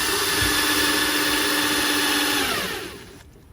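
A step bit bores a hole for a rivet nut (cert nut) during an illuminated wickerbill install at a garage, a steady close whining drill tone that holds for nearly three seconds, then winds down and stops.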